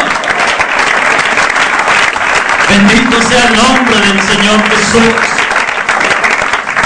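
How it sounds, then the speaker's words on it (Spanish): A church congregation applauds loudly and steadily throughout, with a voice proclaiming over the clapping partway through. "¡Denle un aplauso al Señor!"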